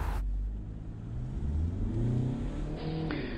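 A Seat Tarraco accelerating hard, its engine note rising steadily as it revs up through the gears, close and loud with no voices.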